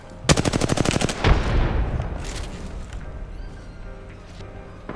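Rapid automatic gunfire in a shooter video game, a dense burst of close, loud shots followed by a heavier blast, then a fading rumble and faint distant pops.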